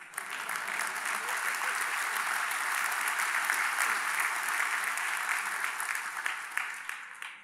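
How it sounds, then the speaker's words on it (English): Keynote audience applauding in a conference hall, a dense, steady wash of many hands clapping that holds evenly for several seconds before tapering slightly at the end. "Now you can clap."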